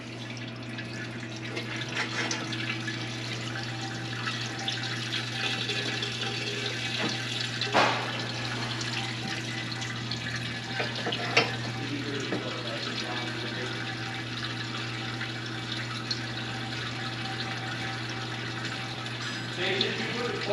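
Water runs steadily while a race car's lines are flushed in the pits, a constant rushing flow over a low pump hum with occasional clanks and bumps.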